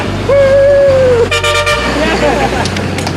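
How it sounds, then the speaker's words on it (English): Car horns honk in heavy traffic on narrow industrial streets lined with trucks and repair shops: one long, loud steady blast, then a cluster of shorter toots over rumbling engines. "Come on, everybody, keep honking, keep honking."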